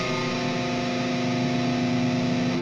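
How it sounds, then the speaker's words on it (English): An electric guitar heavily driven with distortion and overdrive sustains a dense, buzzing tritone (the devil's interval), loud and steady throughout with no voices. "especially when we're going to add a lot of distortion"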